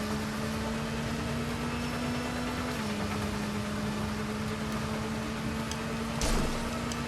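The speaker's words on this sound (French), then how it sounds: "En fait, la moto va pas si vite hein, quand tu regardes bien." Motorcycle engine in the video game Gotham Knights, a steady humming drone that drops slightly in pitch partway through and holds level, with a short burst of noise near the end.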